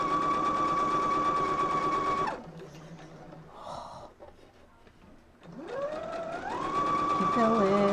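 A sewing machine stitches quilt blocks in two loud, steady humming bursts, with a quieter pause between them where soft handling noises and faint breathing are heard.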